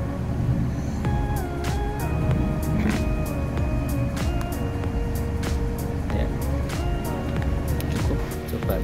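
A 2002 Daihatsu Hiline Long F70 pickup engine idles steadily and loud throughout, a continuous low rumble with some background noise and faint voices around it.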